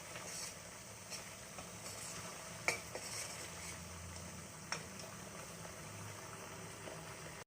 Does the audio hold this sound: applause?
no